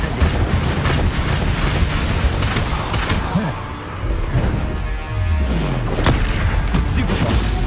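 Spell blasts in Hogwarts Legacy combat go off as repeated heavy booms and crashing bursts, loud and near, packed closely together, with voices shouting amid the explosions.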